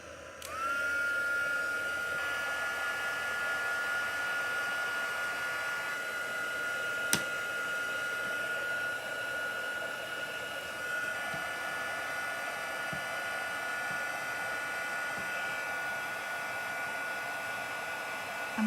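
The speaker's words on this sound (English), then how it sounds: "now what I'm gonna do is we're gonna turn on the heat gun" A heat gun blows hot air in one steady, even whoosh with a faint high whine running through it, close and continuous, used over stamped paper while coloring.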